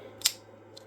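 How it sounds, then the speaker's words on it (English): A plastic part of a Yaesu FT-101ZD radio case snaps back into place with one short, sharp click, faint and close over a low steady hum, followed by a much softer tick. "that was the sound of it snapping back in over there"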